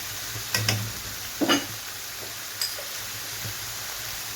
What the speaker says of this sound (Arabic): غادي نخليهم دابا يتشحروا مزيان حتى يطيب ليا هاد لادان